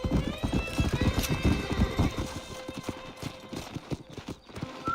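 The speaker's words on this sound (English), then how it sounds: "कैसे कूद रहा है भाई, नाइस horse" A horse in the Red Dead Redemption video game gallops with rapid, rhythmic hoof clip-clops and lets out a neigh early on, loud and close, with game music and a voice talking over parts of it.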